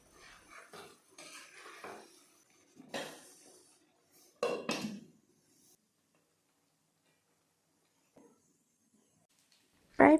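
Mutton is stirred in a cooking pot on a medium gas flame, giving intermittent close scraping and clattering strokes of a utensil against the metal pot, separated by quiet pauses and ending in a sharp clank.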